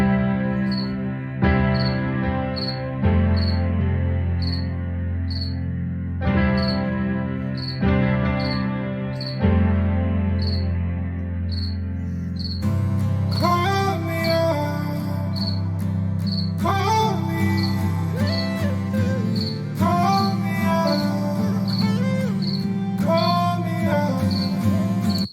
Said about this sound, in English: we can hear a very short example of what a binary form song sounds like